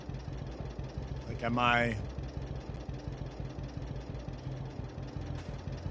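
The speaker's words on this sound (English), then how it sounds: "Is the tractor too loud?" A tractor engine in the Farming Simulator 22 video game hums at a steady idle throughout, a low continuous drone under a man's brief speech.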